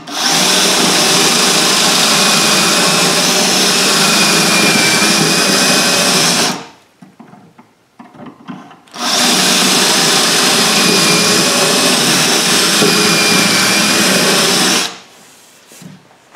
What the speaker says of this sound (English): And I'm going to drill a few holes.